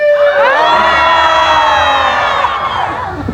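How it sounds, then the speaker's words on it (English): A theme park show audience of adults and children screams and cheers together in a loud, sustained burst of high-pitched voices that fades slightly toward the end. "That makes everybody scream!"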